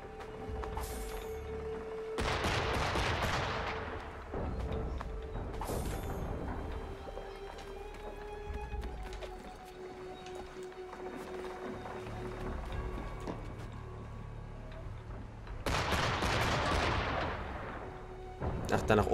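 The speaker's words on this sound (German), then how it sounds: "schießen die hier immer noch, oder was?" Video game gunfire and artillery boom through a bombed city, with heavy bursts of shots and explosions coming in waves, loud and close, and quieter stretches of distant firing between them.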